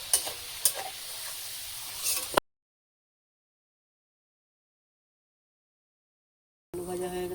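Diced potatoes frying in a pan give a soft sizzle with a few stirring scrapes, then the sound cuts to silence before a brief burst of frying returns at the end.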